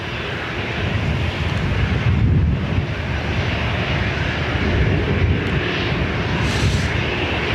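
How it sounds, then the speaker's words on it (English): An ATR turboprop airliner climbing away into cloud at Dublin Airport, a steady broadband engine and propeller roar that holds loud and constant from start to finish, with some wind buffeting the microphone. "waiting for the ATR, which is going into the clouds to clear the way"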